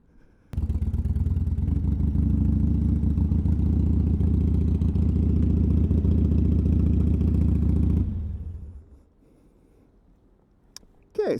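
Harley-Davidson Sportster 883 engine running steadily up close, a loud, even idle-like rumble for about eight seconds that then cuts off, followed by quiet and a brief clatter at the end.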